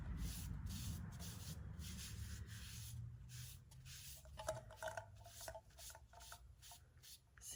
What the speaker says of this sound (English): I'm just going to run a wet shop cloth, smooth out any paint